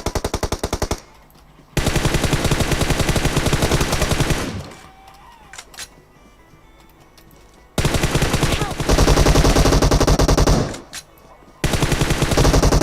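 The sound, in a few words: gunfire in video game PUBG Mobile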